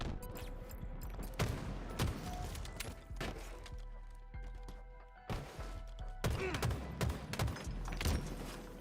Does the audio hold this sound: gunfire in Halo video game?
yes